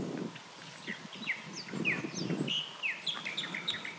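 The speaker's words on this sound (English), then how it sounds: "Little birds are singing away." Small birds chirping and trilling in quick bright bursts, fairly close, over a soft low background rumble near a moored cruising boat, with no talking.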